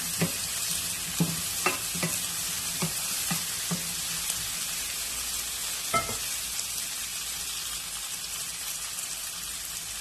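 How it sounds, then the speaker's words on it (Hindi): Chopped zucchini (tori) frying in a pan for a Pakistani-style sabzi, with a steady sizzle throughout and several sharp stirring scrapes of a spoon, clustered early and one more later, close and without talk. "अब मैं इसमें तोरई जो मैंने काटी है वो मैं ऐड कर लूँगी। तो आप मिक्स करें अच्छी तरीके से।"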